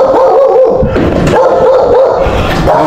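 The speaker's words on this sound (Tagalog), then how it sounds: "tinatawag tayo ng aso" A dog barks and yips close by in a loud, busy outdoor setting, short repeated calls over steady background noise with no talk.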